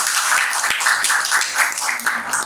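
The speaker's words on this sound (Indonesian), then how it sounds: "Oke, tepuk tangan." An audience breaks into continuous applause, a dense, even wash of many hands clapping nearby for a couple of seconds without any speech.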